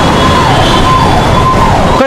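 A police SHO's car siren wails through a long traffic jam at a city protest, a steady loud tone over dense crowd and engine noise with voices mixed in.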